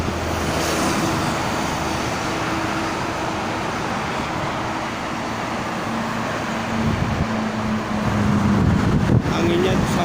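Traffic hums continuously on a Jakarta toll road heading toward Cikampek in the late afternoon, with wind buffeting and a low engine drone swelling near the end.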